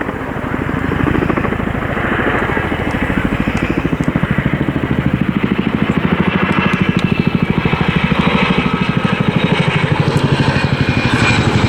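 A Chinook twin-rotor helicopter flies a display at an RAF airshow, its loud rapid rotor thudding and turbine roar continuous and close throughout, with no one speaking.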